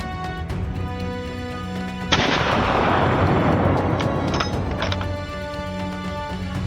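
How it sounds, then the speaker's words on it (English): A single loud rifle gunshot fired while hunting wild boar in snow with a thermal scope, a sharp crack followed by a long rumbling echo that decays over several seconds, with no talk. "A resolute gunshot rang out, halting the creature's escape across the white snow."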